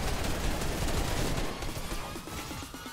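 Dense, continuous gunfire in a Fortnite match, a steady wash of overlapping shots at moderate loudness that thins slightly into more distinct reports toward the end.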